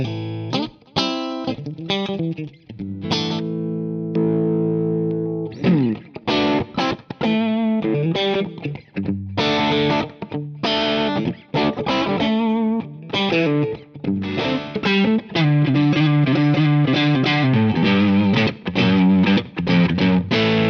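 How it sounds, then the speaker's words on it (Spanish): An electric bass runs through an MPF bass preamp with overdrive, a Pulsar Echorec delay and room reverb, playing a loud, distorted melodic line of sustained and rapid notes with echoing tails and no speech. "aquí sí hemos escuchado un poquito de delay del Pulsar Ecorec y un poco de reverb de sala"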